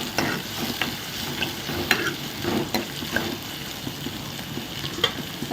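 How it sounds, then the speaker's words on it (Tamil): Small onions and garlic cloves sizzle steadily in a hot pan, frying loud and close with occasional stirring scrapes throughout and no voices. "சின்ன வெங்காயம் ஒரு நூறு கிராம் போட்டு நல்லா வளங்க விடுவோம்"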